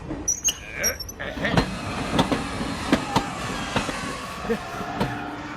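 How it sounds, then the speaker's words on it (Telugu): A train rumbles along the tracks with a steady run of clacking wheel knocks, and faint voices carry over the noise. "ట్రైన్ స్టార్ట్ అయింది."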